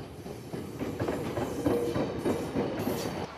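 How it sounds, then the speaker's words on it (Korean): The last train through Haeundae Station on the Korean coastal railway rumbles in with a rolling, rhythmic clatter of wheels on rails, steady and fairly close, with no talking. "이곳 해운대역을 지나는 마지막 열차가 들어오고 있습니다"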